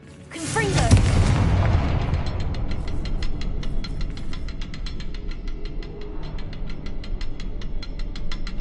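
A fiery Confringo spell explodes in Hogwarts Legacy with a loud, sudden boom followed by a long crackling, rumbling tail, while a voice speaks over the blast.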